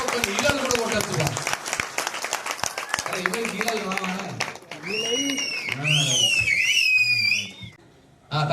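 Dense audience applause for a presenter at a movie preview event at Ravindra Bharathi, loud clapping that thins out as whistles and a voice over a microphone take over.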